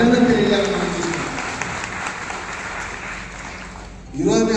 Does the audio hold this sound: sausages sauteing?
no